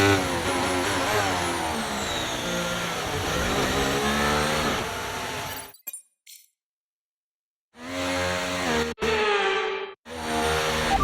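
A Williams Formula 1 car in the F1 23 racing game revs hard through rising gear sweeps, then cuts out into silence and returns with short bursts of engine and clinking sounds.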